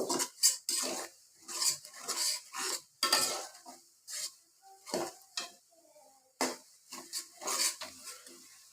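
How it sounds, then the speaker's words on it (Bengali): Panch phoron spices and garlic being stirred and fried in a pan for a sweet-sour-spicy pickle: a rhythmic run of close, scraping spatula strokes against metal, with short pauses between bursts and no talking. "দিয়ে আমি নেড়ে চেড়ে নিব আর 5 মিনিট ভেজে নিব"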